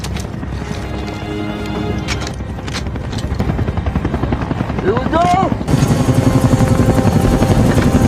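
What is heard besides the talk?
helicopter landing at night in an action film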